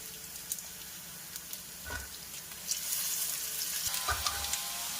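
Green chillies, ginger garlic paste and mint frying in a pan, giving a soft continuous sizzle with occasional stirring knocks and spatters, fairly quiet and without talk.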